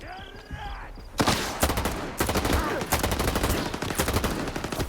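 Gunfire in Stalker 2 erupts after a quiet second. Loud, rapid automatic bursts crack close by in repeated volleys with short gaps.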